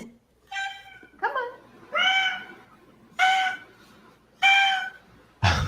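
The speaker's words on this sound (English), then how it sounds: "You can hear it's like a half meow, half honk." A cat gives a string of five loud, hoarse calls, each a half meow, half honk, spaced about a second apart, close and clear over a quiet room.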